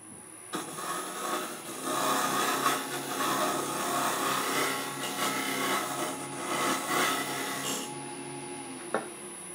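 Wood lathe turning the base of a teak pot, with a steady close whirring and rubbing of the tool against the spinning wood. The sound runs continuously with slight swells, and no one speaks.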